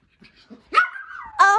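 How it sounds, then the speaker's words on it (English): Dog giving a short whine followed by a couple of close, yelping barks while presents are unwrapped indoors. "Oh no, barking"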